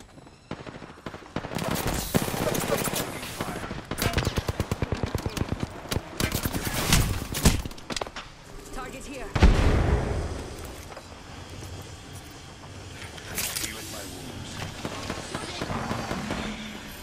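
Rapid automatic gunfire in the Apex Legends video game, with dense bursts and crackling shots rattling close and loud across the clip, broken by a few heavier booms and quieter stretches.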